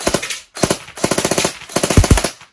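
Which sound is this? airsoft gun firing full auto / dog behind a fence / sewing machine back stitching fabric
airsoft gun firing full auto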